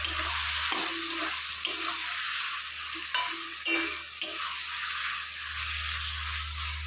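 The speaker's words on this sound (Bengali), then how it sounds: "ব্যাস, এখন একটু নেড়ে চেড়ে দেবো।" A utensil scrapes and stirs green beans coated in mustard paste and mustard oil in a hot pan, several distinct scraping strokes over a steady sizzle and a low background hum.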